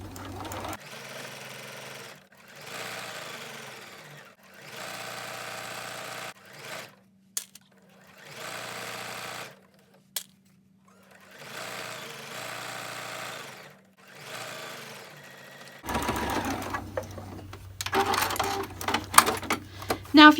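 A sewing machine stitches fabric for a rice heating bag in repeated bursts of fast mechanical whirring, each a second or two long, separated by short pauses. Near the end comes louder handling noise over a low hum.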